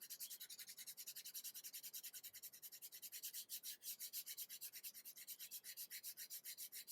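Rapid, rhythmic rasping strokes of sanding a leather cardholder edge flat, close and quiet, repeating steadily back and forth with no talking.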